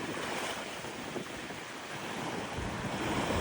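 Strong wind blows around a large cruise ship at sea, a loud steady roar of wind and surging waves with rough microphone buffeting and no voices.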